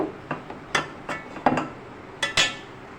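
Beef nihari being stirred with spices like cinnamon, black cardamom and star anise in a pot, giving scattered metallic clinks and scrapes of a spoon against the pot, about eight light knocks spread unevenly, close and fairly quiet.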